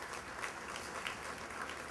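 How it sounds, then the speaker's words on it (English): A gala crowd applauds for Congresswoman Donna Edwards, a steady, even wash of clapping from many hands, fairly faint and distant, continuing without a break. "let's give her a round of applause"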